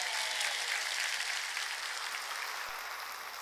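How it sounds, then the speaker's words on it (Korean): A congregation applauds steadily during a church sermon, dense clapping from many hands that slowly fades a little toward the end. "빨리 박수치라고요."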